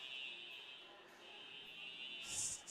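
A fire alarm in a school gym during a volleyball tournament sounds as a steady, continuous electronic tone, fairly distant and reverberant, with faint crowd noise and a brief brighter burst near the end.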